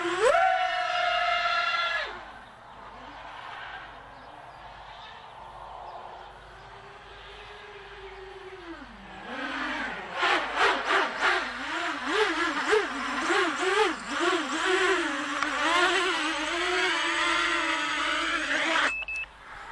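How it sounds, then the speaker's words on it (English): Custom Armattan quadcopter motors whine up and down as the throttle is blipped, rising from a steady electric hum into rapid wavering pitch swings, close and fairly loud, with high harmonic whirring throughout. "I'm only just blipping the throttle to full there. Let's give it a bit better run."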